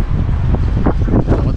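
Wind blowing outdoors on a gusty day outside a large thrift store, a steady loud rush of broadband noise buffeting the microphone with brief gusts and no talk.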